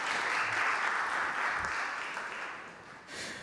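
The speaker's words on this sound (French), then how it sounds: "Vous pouvez les applaudir à nouveau, évidemment." Conference audience applauding, a broad steady roar of clapping that swells early, fades slightly toward the end, then briefly rises again, with no clear voices over it.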